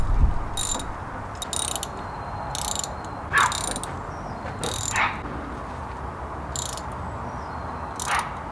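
A ratchet clicks in short, regularly spaced bursts of ratcheting strokes while head bolts are torqued down on a Mazda MX5 engine, close and steady over a quiet background, with no voices.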